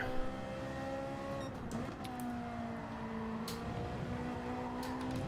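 Ferrari race car engine in Gran Turismo 7, a steady sustained drone with shifting harmonic pitch and a brief dip around two seconds, loud and continuous with no talking.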